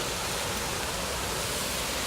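A waterfall pours in a dense, even roar of water, loud and unbroken with no other sounds.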